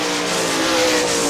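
410 sprint race cars roaring at Hartford Speedway Park in Hartford, Michigan, a steady loud engine drone with a sustained pitch through the whole moment, no voices.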